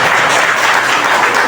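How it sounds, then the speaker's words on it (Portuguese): Dense, steady applause fills a local Workers' Party directorate inauguration meeting in Aratuípe, a crowd clapping loudly and continuously with no voices standing out. "Vamos aplaudir o homem que ele merece aí."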